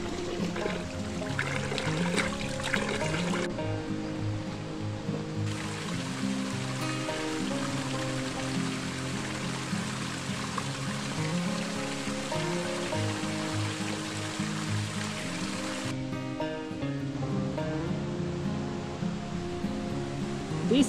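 Mountain stream water rushing steadily near waterfalls, a dense, continuous roar that stays loud and even throughout, with no one talking.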